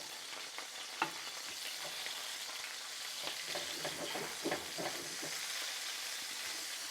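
Meatballs for Swedish meatballs fry in a pan with a steady, close sizzle. Occasional sharper pops and stirring clinks rise above the constant hiss.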